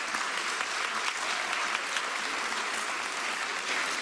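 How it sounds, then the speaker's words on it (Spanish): Audience applause at a conference talk, steady dense clapping throughout, fairly faint and distant, with no other sound on top. "Un aplauso para México también"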